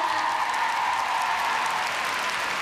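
A large arena crowd applauds Tessa Virtue and Scott Moir's ice dance at the Grand Prix Final, a dense, even wash of clapping that holds steady throughout.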